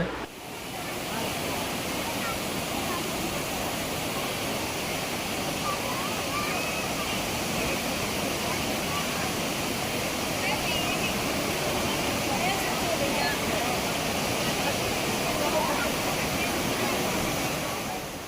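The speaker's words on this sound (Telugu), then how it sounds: "ఎలిఫెంట్ వాటర్ ఫాల్ అయితే విజిట్ చేశానండి" Elephant Waterfall in Meghalaya roars as a dense, steady rush of falling water, close and unbroken for the whole stretch, with voices faintly mixed in.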